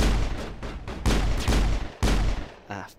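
Heavy gunshots boom in quick succession in the Mass Effect video game, several loud blasts separated by short gaps, with a faint warbling tone at the end.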